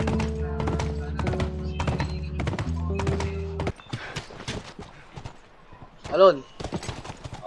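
Steady clip-clop of hooves on a hard surface, close by, followed by people talking and a brief whinny-like cry.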